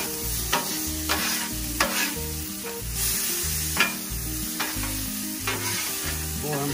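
Pork sizzles on a Blackstone griddle while a spatula scrapes and stirs it, a constant loud frying hiss broken by regular metallic scraping strokes, with music playing underneath.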